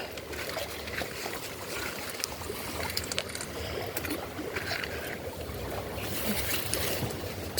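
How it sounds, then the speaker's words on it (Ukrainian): A small stream of water trickles outdoors, making a continuous soft, bubbly burble that stays fairly near and steady throughout, with no voices. "Де трошечки водичка пливе."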